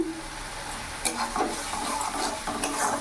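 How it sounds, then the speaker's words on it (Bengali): Salt, turmeric and chili powder are stirred into a rohu fish curry in a pan, with soft scraping strokes over a low, steady sizzle, heard close. "ভালো করে নাড়াচাড়া করে মিশিয়ে নিলাম।"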